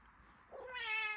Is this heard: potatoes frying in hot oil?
no